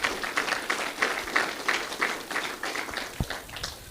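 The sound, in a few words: audience applause at bass fishing awards ceremony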